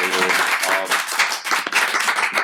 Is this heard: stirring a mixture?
no